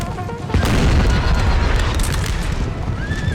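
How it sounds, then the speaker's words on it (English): Napoleonic cannons in a Total War battle boom in a dense, rumbling barrage, loud and continuous with the crash of battlefield noise and no talk. "He's got to halt that artillery fire when he charges in his cav."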